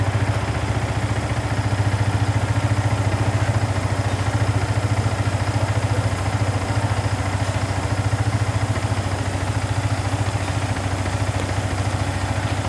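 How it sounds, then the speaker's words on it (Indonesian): A Yamaha R15 motorcycle engine idles steadily and close by, with a constant low rumble and light mechanical clatter and no break, after a chafed body wiring cable that had made it stall was dealt with. "dan ternyata motor sudah tidak mati."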